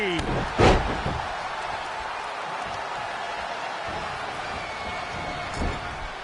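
A heavy knee strike thuds once near the start of a wrestling video game match, a short loud impact over steady arena crowd noise and ongoing commentary.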